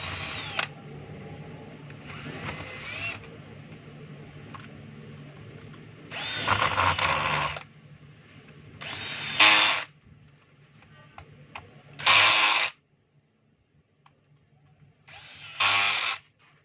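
A power tool drives the brush holder screws on a DeWalt D25899 jackhammer in short separate whirring bursts with quiet gaps between them.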